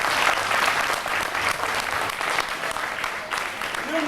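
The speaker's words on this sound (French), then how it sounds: "Applaudissez pour ceux qui ont répondu." Audience applause at an oral-tradition festival in Congo, a dense, steady clapping from a crowd that fills the whole stretch at even loudness, with a faint voice-like tone rising near the end.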